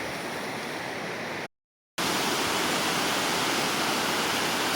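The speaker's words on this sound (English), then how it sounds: "So this is the waterfall." Roaring Run waterfall in Roanoke, Virginia, gives a dense, steady rush of falling water heard up close, loud and continuous, with one brief total dropout in the middle.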